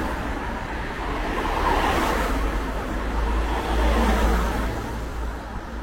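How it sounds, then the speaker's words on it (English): Steady roar of road traffic through a small town street on a Sunday morning, a continuous wash of car noise with deep low rumble and gentle swells as vehicles pass, no voices. "all the cars going by don't make it a quaint little town anymore"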